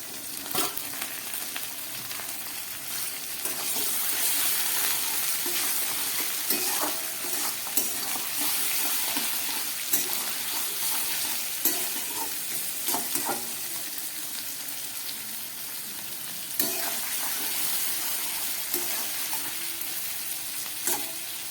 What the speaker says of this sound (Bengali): এইবারে আমি দিয়ে দিচ্ছি এই ম্যারিনেট করা মাংস, খাসির মাংসটা।